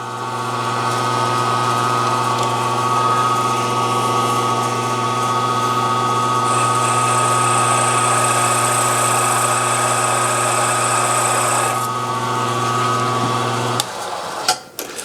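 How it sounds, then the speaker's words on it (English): Metal lathe or mill running at 850 RPM with the power feed engaged while machining a holding fixture for 5-cylinder radial engine cylinder heads, a steady loud motor drone with a high whine that stops abruptly near the end. "850 RPM. Put the power feed in gear."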